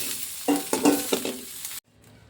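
Soybean chunks frying in hot oil in a pan, a few stirring scrapes and sizzling bursts for under two seconds, then the sound cuts off to near silence.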